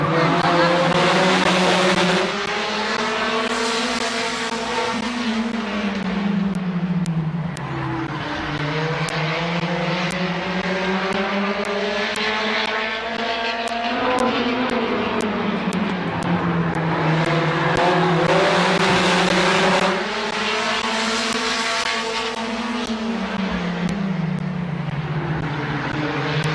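Race cars circling Midvale Speedway, a loud continuous engine roar that swells and fades in repeated waves as the pack passes on each lap, with no talk.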